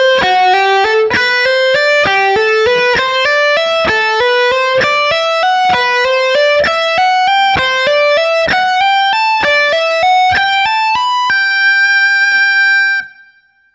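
An electric guitar plays a fast ascending rock speed lick legato, a rapid stream of smooth, connected notes climbing steadily in repeated patterns before ringing out on a sustained high note, with no talking.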